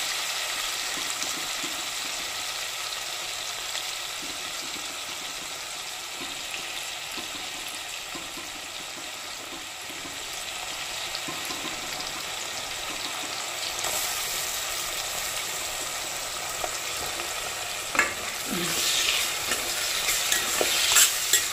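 Onions and green chilies fry in a hot pan for curry, a steady bright sizzle running throughout with occasional scrapes of stirring that grow a little louder toward the end; no one speaks.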